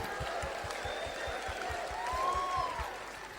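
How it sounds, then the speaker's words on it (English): An audience in a sermon hall clapping together in a quick, even rhythm, a broad wash of handclaps under sustained musical tones. "Come on, guys, clap with me."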